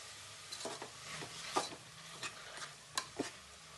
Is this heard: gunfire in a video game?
no